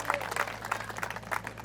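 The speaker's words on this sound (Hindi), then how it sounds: "पूरन जी के लिए एक बार आप लोग जोरदार तालियां जरूर बजाइए" An audience at a political conference applauds, a faint, fairly thin patter of claps over a steady low electrical hum.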